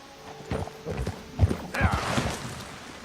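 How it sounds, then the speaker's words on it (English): Horse hooves clip-clop steadily on the ground in Red Dead Redemption 2 as a horse is ridden, with a brief whinny partway through; the hoofbeats are close and moderately loud. "I'll try and run up here with the horse"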